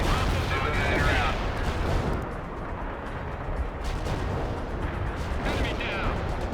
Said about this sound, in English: Artillery strike completed. Artillery barrage used for full effect.